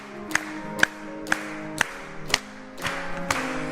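A church congregation at a Sunday morning service in Daegu claps along to a hymn, with sharp, even claps about twice a second over sustained instrumental tones.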